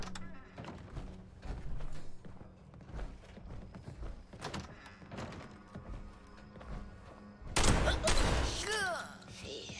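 Gunfire in Fallout 76, including shotgun blasts, heard as scattered heavy thumps at irregular intervals with a louder burst near the end, alongside a brief murmur from a voice.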